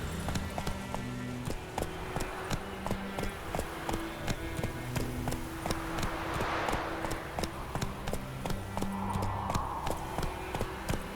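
A horse gallops in The Witcher 3: Wild Hunt, with sharp, evenly spaced hoofbeats in a fast continuous rhythm, close and clear over soft game ambience and music.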